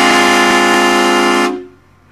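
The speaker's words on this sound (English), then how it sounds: "he's gonna do the train horns" A loud, close blast of train-style air horns mounted on a Duramax pickup truck, one sustained chord lasting about a second and a half before cutting off abruptly, leaving quiet background.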